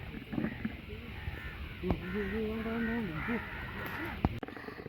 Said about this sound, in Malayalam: ഒരേ ഒരു താറാവ്